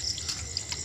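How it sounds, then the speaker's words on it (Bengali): Running water from a tap washes chicken meat in a sink, a brief close splashing trickle with small drips. "দেখো এখন এখানে মাংসটা ধোয়া হবে।"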